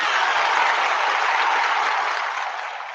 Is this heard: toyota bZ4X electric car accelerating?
no